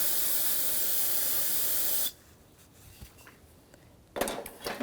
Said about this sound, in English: Now I will take some brake clean,